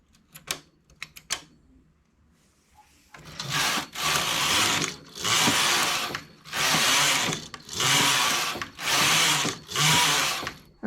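A knitting machine carriage knitting rows for a leg of shorts: a few light clicks, then loud rhythmic sweeps of the carriage back and forth, each pass a dense rasping whoosh about a second long, with no speech.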